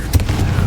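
A Confringo explosive spell going off in Hogwarts Legacy: one short, booming burst with a low rumble that fades quickly, heard alone.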